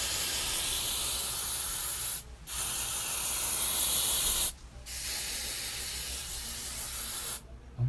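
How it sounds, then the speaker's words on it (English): Hairspray from an aerosol can is sprayed onto a man's hair in three long, steady hissing bursts of about two seconds each, separated by brief pauses, close and loud with no talking. "you just want to grab your hairspray and spray your hair"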